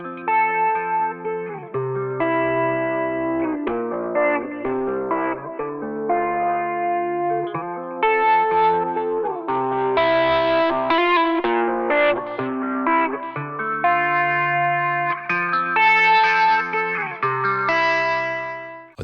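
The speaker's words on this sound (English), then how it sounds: "Here are a few audio examples of the pre-drive function in effect." Gritty, saturated synth melody pushed through the AIR Multiband Filterbank's pre-drive distortion, steady and loud with dense buzzy harmonics, a run of sustained and stepping notes continuing without pause and with no voices.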